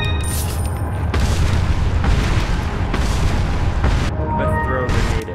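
Grenade blasts and booming combat in Resident Evil 4, loud continuous rumbling explosions and gunfire filling the whole stretch with dense, heavy low-end noise and a voice talking over it.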